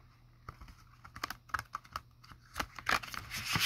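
Tarot cards shuffled by hand at close range, giving a run of quick, irregular papery taps and riffles that grow denser and louder toward the end.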